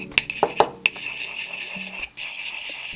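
A small tool mixing brow tint in a little dish, a few quick clinks and scrapes in the first second, then faint stirring and quiet room tone.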